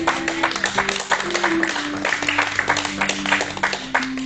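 Church congregation applauding during a Sunday service: sustained, lively clapping from a crowd, with sung or held voices running beneath it.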